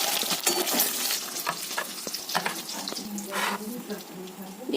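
Eggs fry in mustard oil for an egg curry, a steady sizzle with scraping and stirring clatter, close by and fairly loud throughout.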